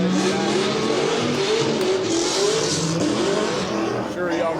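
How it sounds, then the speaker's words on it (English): A gray Nissan 350Z race car roars at a racing event, its loud engine note revving and droning continuously at close range with no break for the whole stretch. "I'm sure y'all got that nice taste of how loud that car actually is in person as the door was open for the drone operator."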